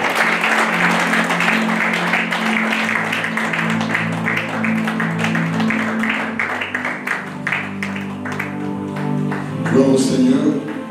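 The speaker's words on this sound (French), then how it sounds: "est-ce que nous pouvons acclamer le Seigneur?" A church congregation at a prophetic conference claps and cheers in praise: dense, sustained applause with crowd voices and music mixed in, loud and continuous throughout, swelling near the end.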